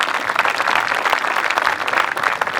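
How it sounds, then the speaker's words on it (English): An audience at the 2016 Engen Knockout Challenge school sports tournament opening ceremony at Grey College applauds, a dense, steady round of clapping that holds for a few seconds with no speech over it. "Can you give him a round of applause in absentia?"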